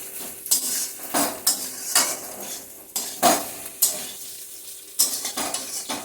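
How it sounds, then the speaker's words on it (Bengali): Fried potato, eggplant and pointed gourd tipped into a pan and stirred, with repeated spoon clatters and scrapes against the pan over a light frying sizzle, rhythmic and close. "এখন ভেজে রাখা আলু, বেগুন, কাঁকরোলটা দিয়ে দিচ্ছি"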